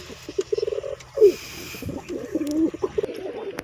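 Pigeons cooing close by, several rolling throaty coos in a row with soft rustling and faint background noise between calls.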